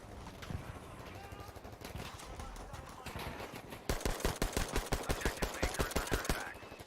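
Trench carbine fire in Battlefield 5 conquest multiplayer: a fast, steady run of loud shots in the second half, following a busier stretch of battle noise.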